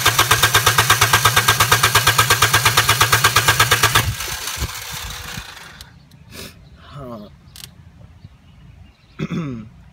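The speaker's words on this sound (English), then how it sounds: "So you know the engine is cranking, but it's not starting because this is spinning." A Honda car engine cranks without starting, a loud, rapid rhythmic churning that lasts about four seconds and then stops, followed by quieter shuffling and a person speaking.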